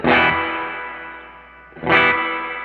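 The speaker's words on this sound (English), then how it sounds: "You can hear how dark the reverb trail is." A dark-toned reverb tank on an electric guitar rings out: two struck chords, each with a bright attack that decays into a long, murky reverb tail, the second coming in near the end.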